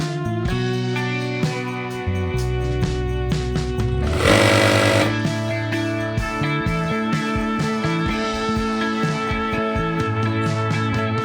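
A sewing machine stitches the elastic waistband of a capri in steady, rapid mechanical bursts, with short pauses and one louder, denser run midway.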